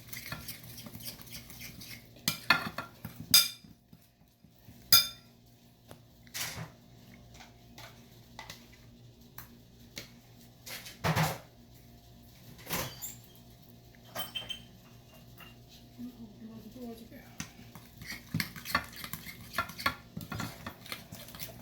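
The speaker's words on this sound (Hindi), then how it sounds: "इसको आपने अच्छी तरह मिक्स कर लेना" Chicken marinade being mixed in a bowl for a masala chicken fry, with intermittent clinks of a spoon against the bowl and soft wet stirring sounds, close and fairly quiet, no talking.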